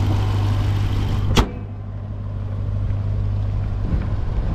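A 2018 Jeep Grand Cherokee Trackhawk SRT with a supercharged Hemi engine makes a steady, deep engine rumble, heard close, with one sharp thump early on.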